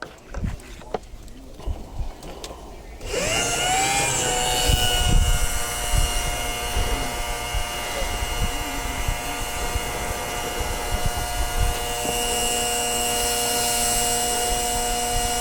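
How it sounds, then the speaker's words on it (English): Small pump moving maple sap from collection jugs up into a barrel outdoors, starting abruptly after a few seconds and running as a steady, loud motor whine with slight pitch shifts, with a person talking at times over it. "So we pump the jugs up into this barrel"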